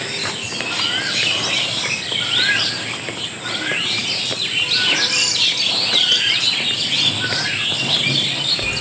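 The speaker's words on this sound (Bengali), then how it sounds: "চলেন গ্রামের পরিবেশের সাথে একটু কোকিল পাখির ডাক শুনে আসি।" An Asian koel calls out in a village amid a steady chorus of other chirping birds and buzzing insects, the bird song repeating over a constant outdoor background.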